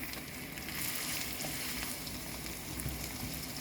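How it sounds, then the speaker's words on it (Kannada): Onion cut lengthwise, with finely chopped garlic, frying in a generous amount of oil in a pan for veg Hakka noodles; a steady, close, continuous sizzle with no talking. "ಈ ಈರುಳ್ಳಿ ಒಂಚೂರು ಫ್ರೈ ಆಗಲಿ"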